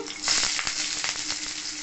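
Dried red and green chillies frying in hot mustard oil with popped mustard seeds, a loud close crackling sizzle with a few stirring scrapes and no voices.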